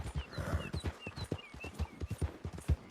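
Horse hooves clip-clop at a steady walking rhythm in the video game Red Dead Redemption 2, close and fairly quiet, with occasional soft snorts and faint ambient background.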